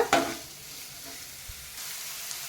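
Chopped capsicum and onion fry in a pan for Mumbai street-style pav bhaji, a soft steady sizzle broken by a few scraping stirs of a spatula, close and fairly quiet, with no talk.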